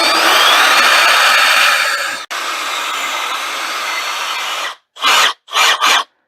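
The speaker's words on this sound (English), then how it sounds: "we're going to mix this for 3 minutes with a epoxy mixing paddle on a drill" A drill turns an epoxy mixing paddle through a batch of epoxy for a countertop. The motor whirs loud and close for several seconds, cuts out briefly, resumes, then stops. Three short revving bursts follow.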